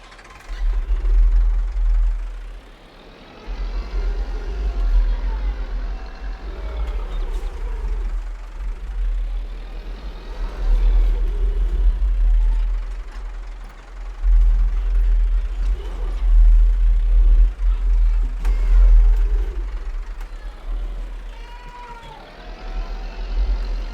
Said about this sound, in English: Right, let's get in the tractor.